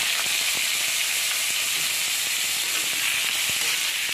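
Chopped mango pieces sizzle in hot oil in a pan for a fish-roe sour dish, a steady close frying hiss with faint crackles and stirring, no voices.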